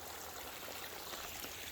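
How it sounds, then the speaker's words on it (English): Warm spring water welling up from underground into a hot-spring pool along a long-distance hiking trail, a steady soft rushing trickle, close and unbroken, with no voices. "this is warm water, by the way, coming straight from underground there"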